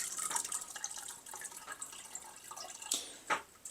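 Soaked chili flakes being pressed out by hand, releasing a series of small irregular drips and trickles of liquid, faint and close with soft wet spatters.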